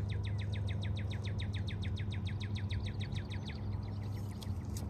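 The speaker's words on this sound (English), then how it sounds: "I'm hearing all the birds and seeing them" A songbird in a garden sings a rapid, regular series of sharp repeated chirps, clear and fairly close, over a steady low background hum, with no speech.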